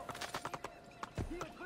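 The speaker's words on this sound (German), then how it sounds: "Pferdchen. Galopp bitte. Galopp." Horse hooves clip-clop in a quick galloping rhythm in the Assassin's Creed 2 video game, close and fairly soft, with a brief whinny-like tone near the end.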